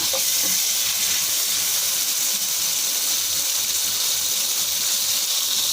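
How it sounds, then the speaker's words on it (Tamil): Onions and tomato sautéing in a pan for biryani give a steady, even sizzle and fry hiss that runs unbroken and fairly close, with no talk over it. "வெங்காயம் வதங்கிடுங்க தக்காளி ஒரு தக்காளி போட்டுருவாங்க"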